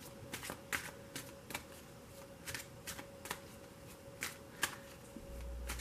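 Tarot cards are drawn and shuffled from a deck in a series of crisp, close papery flicks and slaps, irregularly spaced, with no voices.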